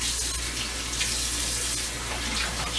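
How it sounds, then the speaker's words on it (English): Steady, loud hiss of water running from a bathroom sink tap while someone washes their hands, continuous and close, with no talking. "Alright, gotta wash my hands."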